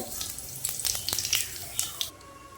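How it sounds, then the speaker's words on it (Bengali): Cumin seeds dropped into hot oil for a Bengali cauliflower and duck egg dish crackle and pop in a short run of sharp sizzling bursts, fading after a couple of seconds. "আর একটু তেল দিয়ে দেবো, আর তেলের ভিতর দিয়ে দেবো জিরে"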